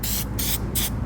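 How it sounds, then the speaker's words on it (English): A spray paint can hisses onto a pair of shoes in two short, close, loud bursts, with brief pauses between them. "Baby girl, you's about to get some spray paint"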